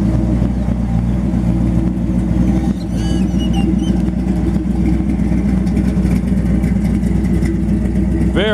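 A 1961 Chevrolet Bubble Top resto-mod with a 348 V8 and four-speed runs steadily close by, its deep, even idle rumble continuous throughout with slight rises in revs.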